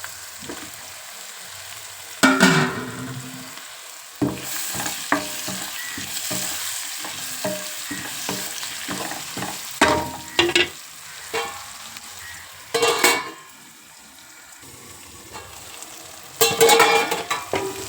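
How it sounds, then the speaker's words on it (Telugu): Tomatoes fry in a pan for a brinjal curry, a steady close sizzle broken by repeated stirring scrapes and several louder bursts of spattering; no talking. "టమాటా కూడా బాగా వేగిన కదా"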